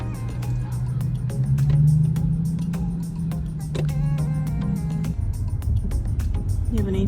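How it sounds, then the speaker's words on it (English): A car drives past: a steady engine drone with a droning tone that swells and then drops off abruptly, followed by lower rumbling. "Just wait for this car to go so you have enough room."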